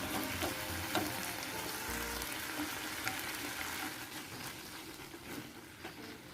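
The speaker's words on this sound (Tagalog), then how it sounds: "We can now add the sliced Napa cabbage leaves." Sliced Napa cabbage leaves frying in a pan, giving a steady, soft, continuous sizzle that stays fairly quiet and unbroken from start to finish.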